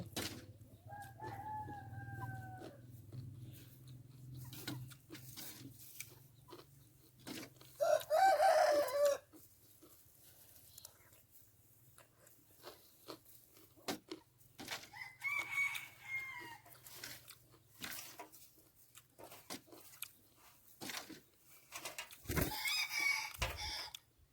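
Chickens cluck sporadically at a fair distance, and a rooster lets out a few crows amid quiet gaps and faint background clatter.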